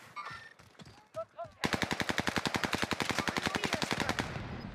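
Automatic gunfire in the video game Warzone, a rapid sustained burst of evenly spaced shots lasting several seconds, loud and close, following a few brief voice sounds.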